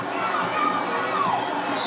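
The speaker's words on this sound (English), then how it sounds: "we see the crowd get into it again" A packed crowd at a 1993 high school basketball game between Anderson Madison Heights and Marion cheers and shouts loudly, a dense, sustained roar with excited voices rising above it.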